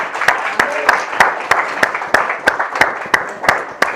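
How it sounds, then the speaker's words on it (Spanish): Worshippers in a church congregation clap together in a strong, steady unison beat of roughly three claps per second, with a crowd murmur of voices underneath. "¿No merece que le demos un aplauso al Señor por eso?"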